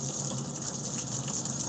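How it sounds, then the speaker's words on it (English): Hot tap water gushes steadily over an ice maker cleaning brush as it is rinsed, a close, even rushing stream lasting the whole moment with no talking. "Rinse it off with hot water."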